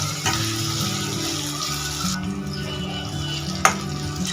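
Chopped tomato and other ingredients for soya chilli fry lightly in a pan with a soft, steady sizzle, beneath a low tonal hum and a sharp clink near the end.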